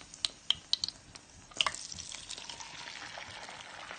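Eggs drop into hot Egyptian ghee with fava beans, setting off a few sharp crackles followed by a steady, close sizzle that continues throughout, with no voices.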